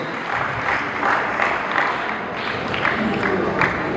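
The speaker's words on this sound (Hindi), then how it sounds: "हम स्वागत करते हैं ताली बजा के" Applause from guests at a Christian wedding ceremony welcoming the pastor, a continuous burst of clapping from a gathered crowd, fairly loud and near.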